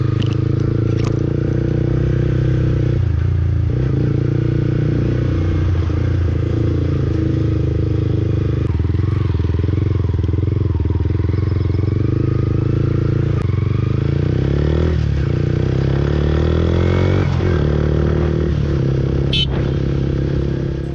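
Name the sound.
sport motorcycle riding engine sound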